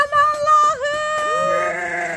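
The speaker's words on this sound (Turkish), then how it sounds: "Koyunlarla kuzuların buluşması." Sheep and lambs bleat loudly and close by, overlapping wavering cries that fill the scene, one long call sliding and trailing off at the end.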